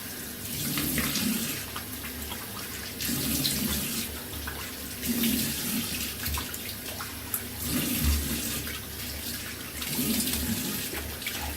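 Shaving brushes are rinsed under a running faucet, with a steady splash of tap water and swishing pulses as the brushes are worked through the stream.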